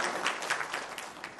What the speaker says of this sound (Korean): 여러분들 한번 대단하다 박수 한번 쳐보세요.